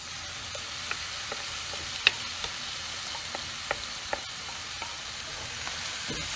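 Sauce being stirred into Beyond Meat, vegetables and garlic in a pan, with a soft, steady sizzle and scattered quiet scrapes and clicks of the utensil against the pan, no voices.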